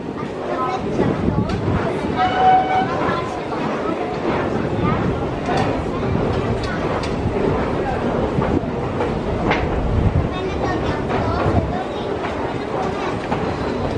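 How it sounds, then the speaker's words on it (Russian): An Istanbul metro train rumbles and clatters nearby at a station, with rhythmic wheel clacks and a faint squeal, accompanied by background chatter. "Очередная станция метро."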